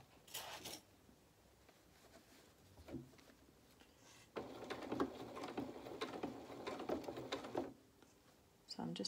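A sewing machine runs in short bursts at low speed, a soft steady whirring patter stitching fabric at a 2.2 stitch length, with pauses and faint handling noises between runs; quiet and close.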